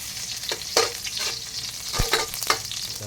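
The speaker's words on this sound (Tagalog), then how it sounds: "mainit na yung mantika natin guys. Lahan natin yung bawang." Garlic frying in hot cooking oil for Filipino pork adobo, a steady loud sizzle with a few sharp stirring scrapes and crackles, no voices.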